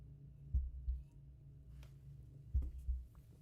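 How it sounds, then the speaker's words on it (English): A heartbeat sound effect in a Souls-like video game thumps as two low double beats, spaced about two seconds apart, fairly loud and alone with no talk. "Not sure why we get the heartbeat when we're in there."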